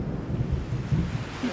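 Sudden rain with thunder at an outdoor survival-game camp on an island: a low, rumbling roar with a steady wash of rain, close and moderately loud, with no voices.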